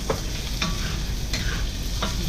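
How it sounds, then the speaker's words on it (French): Chunks of onion browning with ginger in a hot pan, a loud continuous sizzle close up with a few soft scrapes of stirring cutting through it. "Vous faites bien rissoler les oignons une petite minute."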